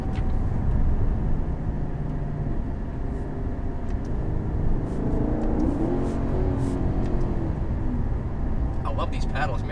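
From inside a 2011 Maserati GranTurismo S MC, the engine drones and revs with rising and falling tones as it downshifts, steady and close, with people talking over much of it.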